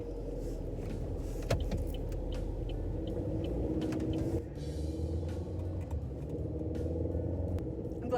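Steady low engine rumble and road hum from inside a moving new car, with a few clicks and creaks and a brief shift in tone midway.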